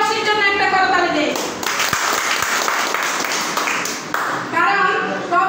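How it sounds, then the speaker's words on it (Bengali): An audience at a community program honouring expatriates breaks into sustained applause, dense clapping that swells and holds while a voice speaks over it. "আমরা প্রত্যেকের জায়গা থেকে প্রত্যেক প্রবাসীর জন্য একটা করতালি দেই।"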